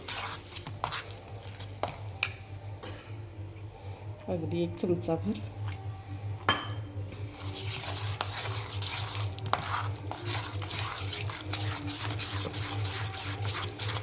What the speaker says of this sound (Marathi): पुन्हा एकदा हे सगळं आपण मिक्स करून घेऊया व्यवस्थित पीठ अजून थोडंसं पाणी घालते